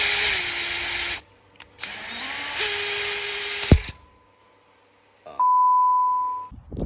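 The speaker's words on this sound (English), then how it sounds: "You drill a hole like that, and then it just taps the hole for you." A power drill with a combined drill-and-tap bit whines in two loud, close bursts separated by short pauses, then a steady electronic beep-like tone sounds near the end.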